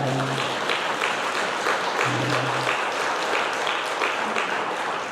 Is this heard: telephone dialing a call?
no